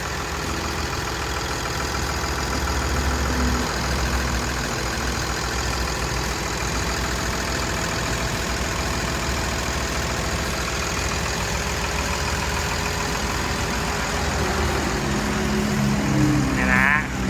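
Komatsu 6D107 diesel engine in a WA320-7 wheel loader runs steadily at a low, even idle, a continuous close drone holding for the whole stretch, with a slight rise near the end.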